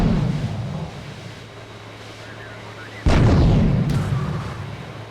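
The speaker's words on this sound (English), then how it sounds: "Just keep firing that cannon, and the momentum will have you airborne in no time." A tank's cannon fires in a video game, a single loud booming blast that breaks sharply out of a quieter low rumble, then rolls on with a sustained roar and a second faint crack shortly after.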